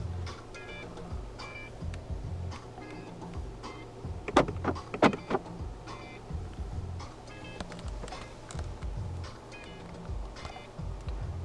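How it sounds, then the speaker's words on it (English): A 2015 Mercedes-Benz C 200 SE Executive's central locking actuates with a few quick mechanical clunks and whirs in the cabin, short and fairly quiet against a low background hum. "Central locking"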